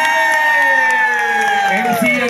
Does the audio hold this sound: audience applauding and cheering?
yes